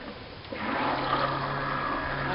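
A honey and milk soap mixture being poured, a soft continuous liquid splash and trickle that starts abruptly and stays steady and close, with no talk.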